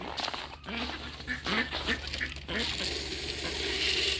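Ducks quacking beside a frozen pond during a severe cold snap, a cluster of hoarse quacks and honks from several birds over steady outdoor background noise, fairly close.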